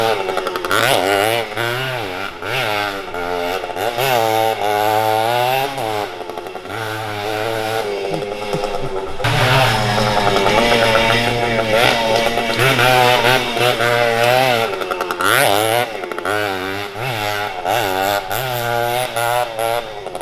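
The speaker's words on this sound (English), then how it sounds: "He's on a dirt bike right now. A little mini pit bike." A DS80 two-stroke mini pit bike rips around a yard, its high buzzing engine revving up and down continuously, loud and close, with gear-like pitch climbs and brief drops throughout.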